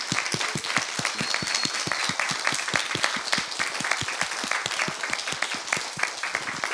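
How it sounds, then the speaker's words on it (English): A room full of people at a university presentation event applauds steadily, with many overlapping claps and a few sharper individual claps standing out, fairly even in loudness throughout. "if we can give a round of applause for them and everyone"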